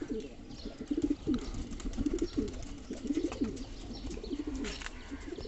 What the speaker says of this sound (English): I will let my king pigeon to bath here